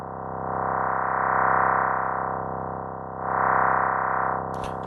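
A wavetable patch on the Halion Sonic SE3 synth sustains one steady tone. The modulation wheel sweeps its filter cutoff so the brightness swells and falls twice, and a short click ends it.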